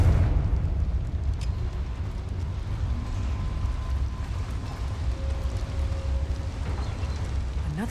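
In Hogwarts Legacy, a Confringo fire spell explodes inside a mine as a deep, rumbling roar that rolls on continuously at a fairly loud, close level, with no voices over it.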